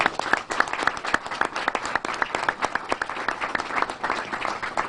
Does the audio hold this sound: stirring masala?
no